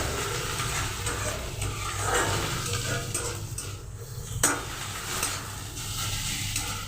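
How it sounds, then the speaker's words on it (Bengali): Radish greens and moong dal curry are stirred in a pan over a steady, close sizzle, with scraping strokes and one sharp clink of the utensil against the pan. "একে একটু ভালো করে নাড়াচাড়া করে নেবো"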